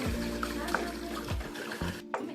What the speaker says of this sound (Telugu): బిర్యానీ కోసం వాటర్ పోస్తున్నాం